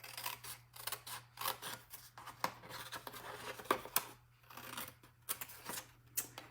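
Scissors angle-cut paper or card for a Christmas tree treat box ornament, a quiet close series of short snipping and rustling strokes in an irregular rhythm, with no voice.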